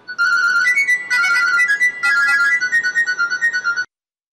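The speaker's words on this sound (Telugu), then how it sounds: "కానీ ఫోన్ మోగుతుంది" A mobile phone ringtone plays close and loud: a bright, repeating electronic melody of short pulsing notes that runs steadily for nearly four seconds, then cuts off into silence.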